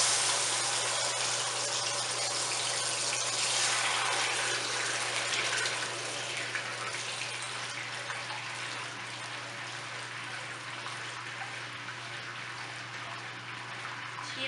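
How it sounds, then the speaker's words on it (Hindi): Water is poured into a cooking pot holding rice and sugar for mutanjan, a steady splashing gush that holds fairly loud for several seconds, then eases slightly and continues on its own without talk. "चीनी के साथ ही हमने पानी डाल देना है आधा कप या थोड़ा सा ज़्यादा डाल दें"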